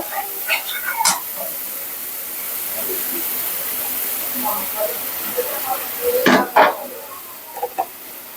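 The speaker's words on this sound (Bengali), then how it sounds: "জিরা ধনিয়ার গুঁড়ো দিয়ে দিলাম মশলাটা কষিয়ে নিয়ে রান্না শুরু করে দেব" Cumin and coriander powder masala frying in a pan gives a steady low sizzle, broken by scattered stirring knocks and a few louder scrapes near the end.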